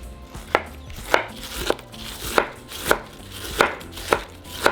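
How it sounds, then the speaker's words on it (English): Purple cabbage being finely chopped with a knife on a cutting board, heard as eight or so crisp, evenly spaced chops, close and clear, with no talking. "we're going to grab our purple cabbage and we're going to finely chop it"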